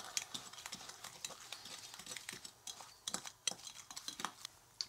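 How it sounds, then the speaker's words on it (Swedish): Vegan meatloaf mixture stirred with dark soy sauce in a bowl, giving soft irregular scraping and clinking of a utensil, close and moderately quiet with no talking. "Vi blandar runt det här lite grann"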